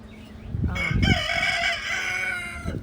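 Backyard chickens near a wildflower patch, with a rooster crowing loudly and close in a long drawn-out call and clucks underneath, over a short stretch.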